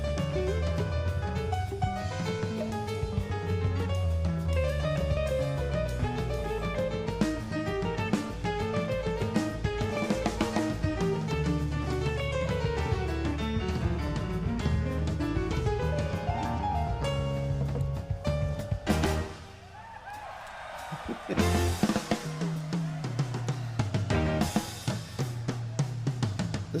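Live drums from a band performing a song, a full rock mix with steady kit rhythm under guitar and bass, briefly dropping out near the end before the band crashes back in loudly.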